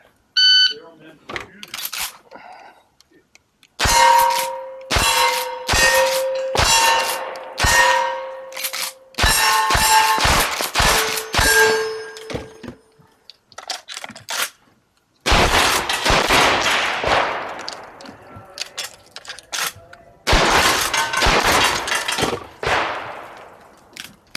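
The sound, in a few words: experimental weapon firing experimental ammunition at cowboy action shooting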